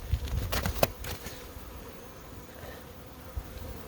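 Honeybees buzz around a small hive on a sunny, cold early-spring day, a soft steady hum with a few louder passes from bees flying close in the first second, then a fainter, even drone.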